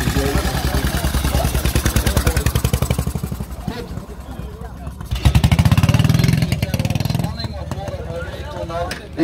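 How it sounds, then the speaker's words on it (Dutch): A 1915 belt-driven side-valve motorcycle of about 500 cc idling and revving nearby with a steady loud, rapid thumping beat while an announcer talks over it. "1915 met riemaandrijving. Hele mooie motor. Zijklep motor."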